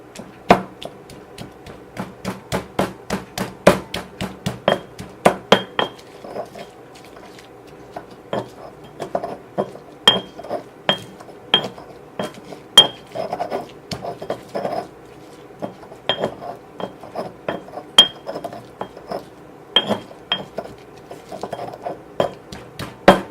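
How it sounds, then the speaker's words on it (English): Food mixed with about a tablespoon of honey is mashed in a bowl for a quinoa and pork dish, giving close, irregular clinks, taps and scrapes of a utensil against the bowl, with no talking. "Now we're going to start mashing it."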